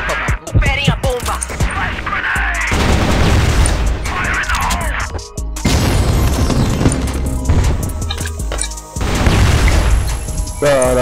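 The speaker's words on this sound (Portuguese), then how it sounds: "Esperem a bomba!" Loud booming blasts and crashes from an online shooter match with a C4 bomb, repeated bursts over about eleven seconds while players talk excitedly over them.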